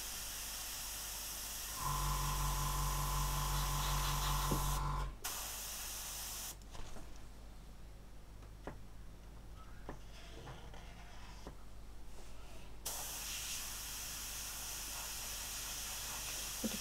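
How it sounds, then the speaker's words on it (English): Airbrush spraying blue paint onto a masked 1/48 Arma Hobby Hurricane IIc scale model, a steady hiss of about three seconds followed by softer, intermittent airflow and faint handling noises nearby. "we're going to spray the blue on"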